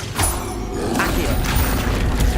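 The Accio summoning spell is cast in Hogwarts Legacy, a whooshing magical effect with mechanical creaks and low booming thumps that swell and pulse through the clip.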